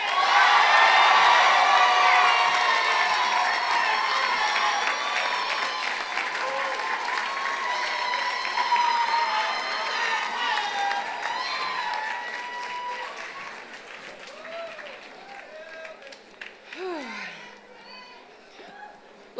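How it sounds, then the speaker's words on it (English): Loud cheering and applause from a crowd at a law school commencement, with whoops and shouts at first, then clapping gradually fading over many seconds. "Let's give another warm round of applause for our wonderful UCI class 2019."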